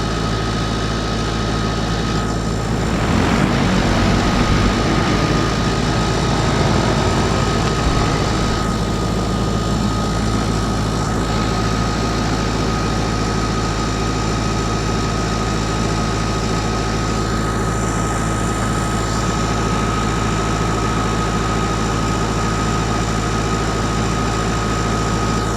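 A DJI T100 agricultural drone flying a seed-spreading mission, carrying a heavy load, gives a steady, loud propeller drone with a constant tonal hum, a brief rise in intensity early on, and no talk.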